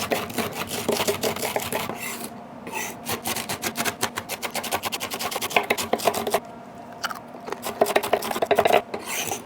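Crispy barbecued bacon being chopped into bits on a board, a steady run of rapid knife strikes with brief pauses, close and fairly loud with no talking.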